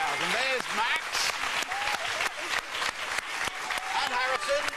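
A large studio crowd at a live Deal or No Deal taping applauds in a steady, dense wash of clapping, while a presenter talks over it throughout.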